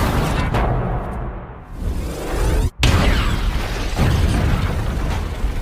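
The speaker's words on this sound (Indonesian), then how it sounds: "Dia pun menembak bahan bakar yang dibawa oleh Chamber, sehingga terjadi ledakan di tempat itu." A fuel explosion roars through, followed by a sharp blast partway in and a long rumbling, crackling aftermath with debris and fire noise.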